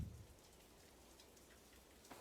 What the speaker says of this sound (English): You can now see that there is an effect being played as the rain hits the ground.